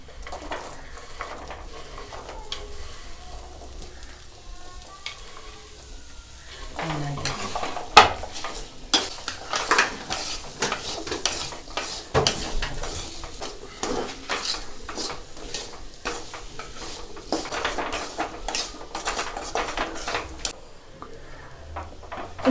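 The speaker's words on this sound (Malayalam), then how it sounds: "ഇനി നമ്മളതിലേക്ക് മാങ്ങ ഇടുകയാണ്." Mango pieces stirred in a hot pan for instant pickle: repeated scraping and clinking of a spoon against metal over a light sizzle, close and irregular, with no talking.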